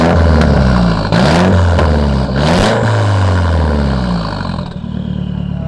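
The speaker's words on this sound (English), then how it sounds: "So do a couple revs." A Nissan Silvia S15 with an exhaust valve held fully open revs hard, its engine rising and falling in a couple of loud, close, sustained surges with rough clatter underneath.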